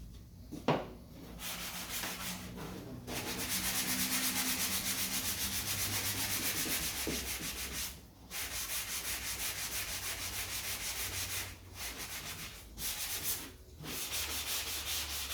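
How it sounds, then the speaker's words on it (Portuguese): A sanding sponge rubs by hand over marine plywood in long, steady strokes, a close, continuous rasping broken by brief pauses between passes. "Agora eu vou dar um acabamento em lixa, usando essa lixinha esponja"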